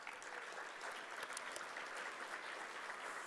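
An audience at a World Trade Week event breaks into sustained applause, a dense even patter of many hands clapping throughout, moderately distant and steady.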